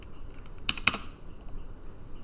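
Computer mouse clicks while playing a JavaScript Minesweeper game, two sharp close clicks in quick succession followed by a fainter pair, over quiet room hiss.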